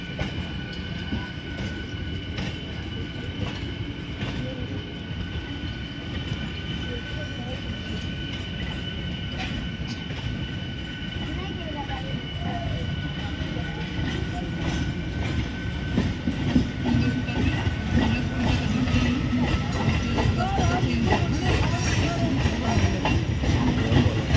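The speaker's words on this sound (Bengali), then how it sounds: "অনেকটা লেটের পর হাওড়াতে ট্রেন ঢুকছে" Howrah Puri Superfast Express, train 12838, rolling into Howrah station late, heard from inside a sleeper-class coach: a steady rumble and rattle of the carriages, with faint clickety-clack building slightly toward the end and voices in the background.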